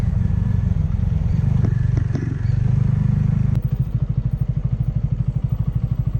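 Motorcycle ridden along a rough off-road trail near Kakolem Beach, Goa, its mid-pitched engine droning steadily up close with clattering and scraping from the bike over uneven ground, the exhaust pulsing more distinctly in the final seconds.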